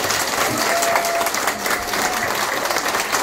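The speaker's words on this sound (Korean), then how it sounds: "박수 한번." An audience at a singing class celebrating a birthday claps together in a dense, continuous burst of applause that carries through the whole short stretch, with no talk on top.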